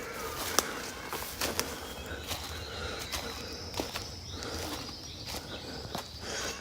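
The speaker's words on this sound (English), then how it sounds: "listen to those birds" Birds sing and call throughout a mountain forest in Tooloom National Park, with sharp chirps and whistles from several directions, some near and some farther off, over a soft rustle of footsteps along a walking track.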